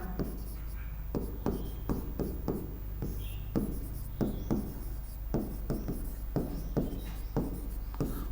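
Pen or pencil scratching across paper while writing by hand, a steady run of short rasping strokes close up and fairly quiet, with faint room hum underneath.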